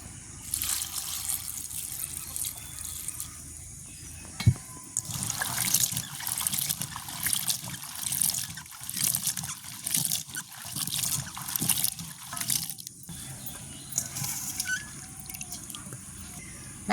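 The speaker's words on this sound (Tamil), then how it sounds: "புடலங்காயை கழுவி எடுப்போம்" Chopped snake gourd being washed by hand in a bowl of water, with steady trickling, dribbling and splashing close up throughout and one sharp knock partway through.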